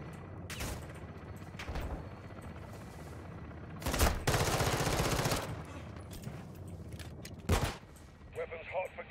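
Gunfire rattles in a Modern Warfare 2 (2022) campaign firefight, with short automatic bursts and a longer, louder volley in the middle. Sharp single cracks come between the bursts, and voices can be heard now and then under the shooting.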